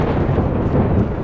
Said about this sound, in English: The thunder is loud, I know.